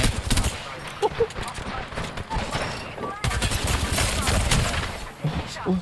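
Bursts of gunfire from a shooting video game crack out in rapid, uneven volleys, loud and close, while a player speaks over the shots.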